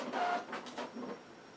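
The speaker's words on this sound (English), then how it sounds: "My printer decided to clean itself on its own." A printer running its self-cleaning cycle, giving a faint mechanical whirring and a few soft clicking, shuffling pulses, quiet and close with no other sound.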